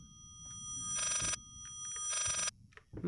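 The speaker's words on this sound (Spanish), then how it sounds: "¡Uh! El teléfono. Ha subido." An old-fashioned telephone bell rings in the horror video game Layers of Fear, two loud, bright, rattling bursts separated by a short pause, followed by faint knocks.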